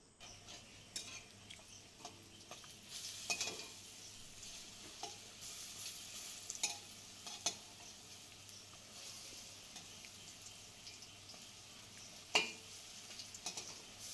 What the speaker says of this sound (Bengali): সব বড়াগুলো আমি এইভাবে ভেজে নেব।